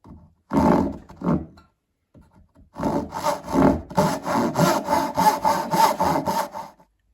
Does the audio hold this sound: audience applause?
no